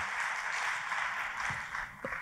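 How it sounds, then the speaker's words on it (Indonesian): A church congregation applauds, a dense, steady wash of many hands clapping together throughout, with a few brief low thumps near the end. "kalau mau tepuk tangannya yang paling meriah"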